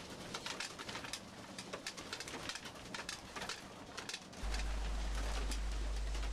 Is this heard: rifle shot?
no